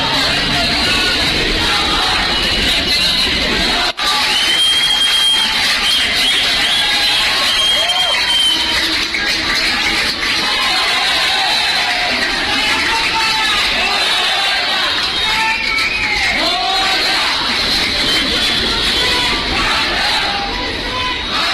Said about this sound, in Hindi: चंद्रयान चांद पर उतरा, उसके बाद अंधेरी में भीड़ देखिए और लोगों का रिएक्शन सुनिए